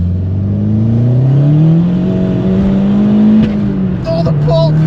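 Volkswagen Fox GTI engine revving up through the gears from second, a loud rising drone that climbs steadily, then a sharp crackle of exhaust pops as the revs drop near the end.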